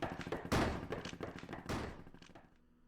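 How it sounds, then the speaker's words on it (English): Gunshots ring out in a visual novel game, a few loud, heavy reports spaced about a second apart amid a rattle of quicker hits, then a fading echo tail into quiet. "Maybe I just imagined all those gunshots."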